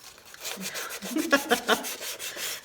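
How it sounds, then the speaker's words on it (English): Scratchy rubbing strokes of sanding on wood, repeated in an uneven rhythm, fairly close and moderately loud, with no one talking. "The sanding noise."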